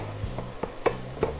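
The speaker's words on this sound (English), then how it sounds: "we're gonna get this stuff all frying up" Beyond Meat plant-based ground meat hitting a hot pan, with a few soft scraping stirs and sizzling bursts over a low steady hum, close and fairly quiet, no talking.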